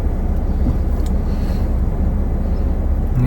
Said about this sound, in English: You seen a truck coming.